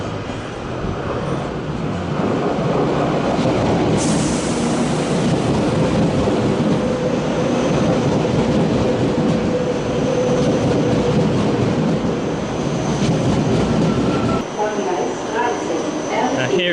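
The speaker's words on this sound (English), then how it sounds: "Here is my train to Munich." A train to Munich rumbles and hisses loudly and continuously, with rail noise filling the space as it pulls in nearby.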